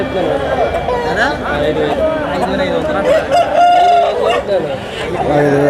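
Roosters crow loudly and close by at a rooster and hen market in Anakapalli district, over a busy background of clucking and people talking.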